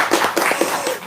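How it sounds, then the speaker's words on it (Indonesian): An indoor audience gives a short burst of clapping, rapid and fairly close claps blending into a brief, steady patter of applause. "Tepuk tangan dong."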